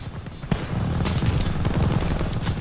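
Machine gun fire rattles in rapid, sustained bursts during a World War II battle in the Call of Duty Vanguard video game, loud and close, with a sharp report at the start and dense gunfire continuing throughout.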